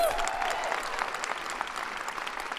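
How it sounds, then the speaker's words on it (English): A conference audience breaks into dense, sustained applause, many hands clapping together at steady loudness throughout, with a brief cheer-like tone at the very start. "Max here is an IDF reservist that deserves another round of applause"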